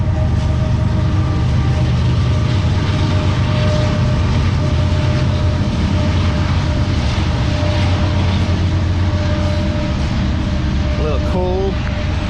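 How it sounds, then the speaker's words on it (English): A loud train rumbles past nearby in one steady, heavy roar that lasts throughout, with a short tonal squeal near the end. "That is a loud train,"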